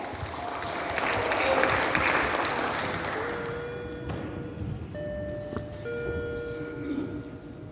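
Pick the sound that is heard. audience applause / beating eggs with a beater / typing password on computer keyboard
audience applause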